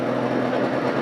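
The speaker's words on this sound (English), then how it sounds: "Building the boost, feeding the fuel to that big turbocharger." Super stock pulling tractor engine with a big turbocharger building boost, a dense, steady roar with a droning hum, loud and close.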